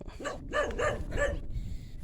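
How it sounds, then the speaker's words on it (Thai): A dog near rice fields barks three or four times in a quick series, moderately close, over a low outdoor rumble of wind. "มันเห่าคน มันเห่าคนรอเนาะพี่น้อง"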